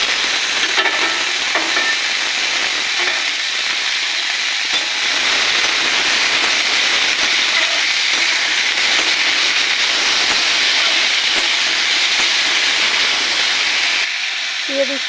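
Potatoes, green chilli, tomato and peas fry lightly together in a pan for a Bengali bati chorchori, giving a steady, close sizzle with faint stirring that continues for nearly fifteen seconds before easing off at the very end.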